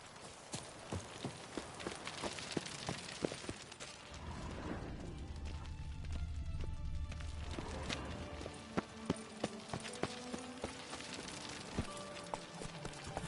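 Horse hooves galloping in The Witcher 3, a fast rhythmic clatter with mechanical game sounds and a low rumbling swell midway, continuous and fairly loud.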